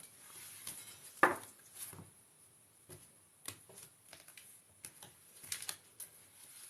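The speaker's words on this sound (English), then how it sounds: "let's shuffle these unicorns for Sandra." Soft riffling and tapping of a unicorn-themed card deck being shuffled for a reading, in irregular quiet bursts with a sharper snap early on.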